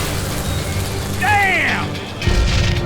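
Gun reloading in the Call of Juarez game, clicking mechanical ratchet sounds over a rumbling background, with a voice briefly rising in the middle and a heavier thud near the end.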